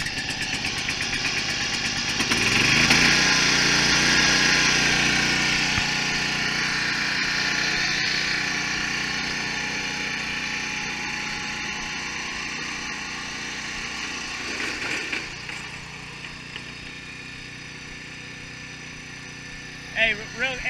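A Viking walk-behind mower engine is pulled into life and roars up loudly, then settles into a steady running drone nearby, with a few clunks near the end.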